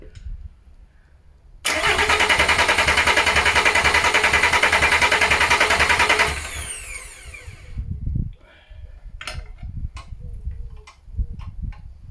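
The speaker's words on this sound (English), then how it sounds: "So just keep winding it over, but not too long, because you don't want to be burning your starter motor out" The starter motor of a VW LT35 van whirs and cranks loudly and steadily for several seconds without the engine catching, then cuts off, leaving scattered clunks and faint knocks.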